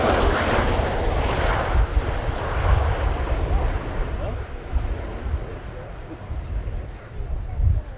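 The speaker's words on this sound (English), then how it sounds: "We'll shortly see the aircraft beginning to accelerate and convert to vertical takeoff and landing" A USAF CV-22B Osprey tiltrotor accelerates during an air show flying display, its engines and rotors making a loud, continuous broadband roar that swells and wavers slightly, with a commentator speaking over it.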